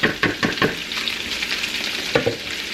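Cabbage, ham and potatoes fry in a pan of grease, a steady loud sizzle broken by several sharp crackling bursts as the food is added and stirred.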